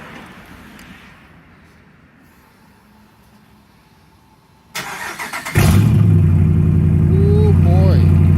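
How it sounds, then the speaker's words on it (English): A 5.7L Hemi V8 with no muffler, no resonators and half the exhaust disconnected cranks and fires after a quiet stretch, then settles into a loud, rumbling open-exhaust idle. Voices can be heard faintly in the background. "gotta see what it sounds like with no muffler, no resonators, and half the exhaust not hooked up"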